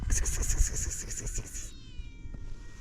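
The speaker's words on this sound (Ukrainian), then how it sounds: "Ох, хтось нявкає." A cat meows several times in quick succession, fairly close, with a steady mechanical hum underneath that continues after the meowing stops.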